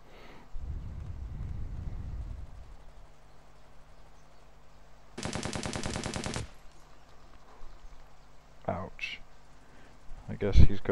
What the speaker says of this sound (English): showing where the gunshots are coming from.